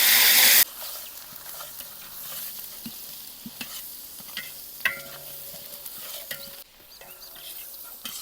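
Onion paste sizzles in hot oil for a village-style egg curry, a loud initial burst of hiss as it hits the pan, then a softer steady fry with occasional stirring scrapes and clinks, no talk.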